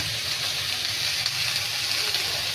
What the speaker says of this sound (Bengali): মাছের মাথা দিয়ে গাড়া রান্না করছি, এখন গাড়াটা বসাই দিই